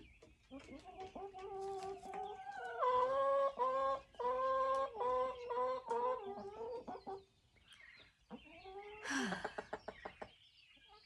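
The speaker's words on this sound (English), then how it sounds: "Thank you for listening to my chickens." Backyard chickens cluck and squawk in a busy run of repeated calls, loud and close, with a rising cackle near the end and brief pauses between bursts.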